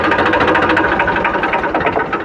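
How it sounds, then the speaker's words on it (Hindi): An Eicher 380 tractor engine runs at idle, a loud, close, steady chugging rumble with fast regular pulses throughout, just before being switched off. "तो हमने ये टाइट कर लिया और अब हम ट्रैक्टर को बंद कर देंगे।"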